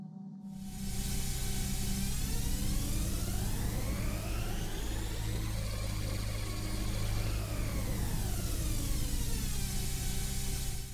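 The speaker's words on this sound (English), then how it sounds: "Starting engine." A car engine in the video game Hextones: Spacetime starts and revs: a loud, steady motor drone rises in pitch, holds high, then falls back, continuous for about ten seconds after a brief silent start.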